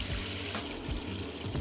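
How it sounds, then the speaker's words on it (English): Deionized water runs from a hose into a car-wash bucket with a steady rushing, splashing fill and no talk. "everything is set to DI water, and I'll just go ahead and fill it down here."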